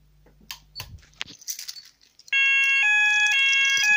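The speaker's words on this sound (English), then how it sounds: "So it starts beeping and then it starts to register it." Scattered handling noises and clicks, then a wireless fire alarm call point on a fire panel sets off a loud, steady electronic alarm, alternating between two beeping tones continuously.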